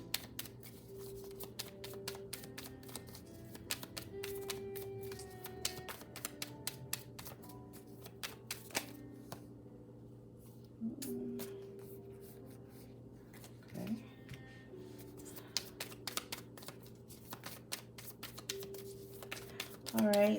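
Oracle cards being shuffled by hand at close range: a run of quick, crisp riffling clicks and soft slaps that come and go over a steady low hum, with brief louder bursts throughout.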